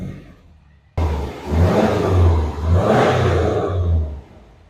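A Subaru Forester XT engine revs in second gear, suspected of a blown second gear. After a quiet start the revs jump suddenly, then rise and fall through two or three close, loud surges with a low rumbling drone.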